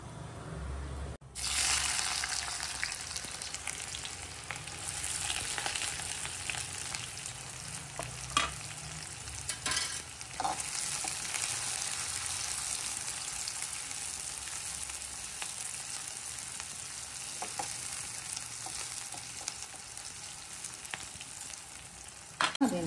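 Mutton liver frying in a pan, a steady close sizzle running throughout with occasional scraping stirs and clinks, fairly loud and alone with no talk.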